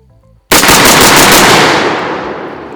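Rapid rifle fire at an outdoor shooting range, a sudden loud burst of fast overlapping shots starting after a quiet moment, then a ringing, slowly fading roar of echoes, close and without talk.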